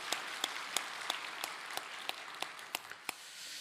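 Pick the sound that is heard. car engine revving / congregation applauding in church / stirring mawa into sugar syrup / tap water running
congregation applauding in church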